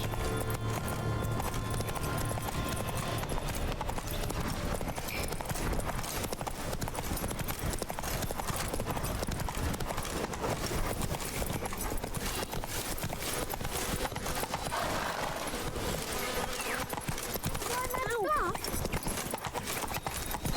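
Horse hooves pound in a fast clip-clop gallop, loud and continuous, with an occasional whinny, from The Witcher 3: Wild Hunt Blood and Wine DLC on PC, under steady in-game music and ambience.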